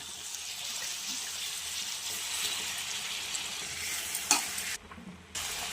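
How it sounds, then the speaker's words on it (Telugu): Brinjal pieces hit a hot pan and sizzle steadily as a close, continuous frying hiss with soft stirring, briefly dipping quieter near the end before the sizzle returns. "ఇప్పుడు వంకాయ ముక్కలు వేసుకోవాలి"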